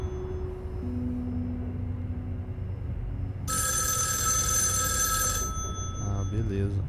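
A telephone rings in a horror video game, a loud bright bell that starts partway through and rings steadily for about two seconds over dark ambient drone.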